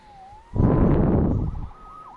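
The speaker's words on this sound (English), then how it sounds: "Saved by the siren." A siren blares in a PS4 video game, a loud rising-and-falling wail that fills about a second before cutting back to quieter sound.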